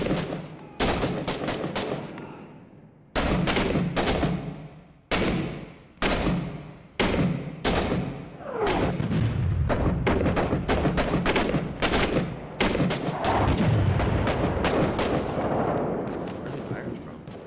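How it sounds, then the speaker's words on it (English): In the multiplayer video game Six Days in Fallujah, rifle gunfire and artillery rip out in sharp, loud reports, first a few spaced shots, then a rapid irregular barrage of bursts and heavy thuds. "They're firing. They're firing."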